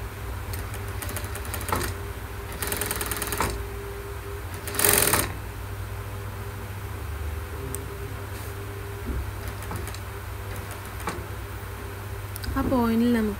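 A sewing machine stitches a pleated kurti in short, close rattling runs that start and stop, with someone speaking between and over the bursts.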